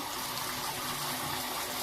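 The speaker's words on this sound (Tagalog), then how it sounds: "Tapos, konting tubig, guys." A little water is poured into a cooking pan with tomato sauce, a soft continuous splashing trickle heard close up for a brief moment with no talking.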